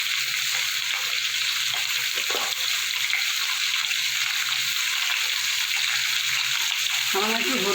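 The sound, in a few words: potatoes frying in a pan with salt and turmeric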